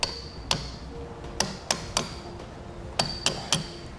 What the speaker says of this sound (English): Use an extension and a hammer to knock it in square.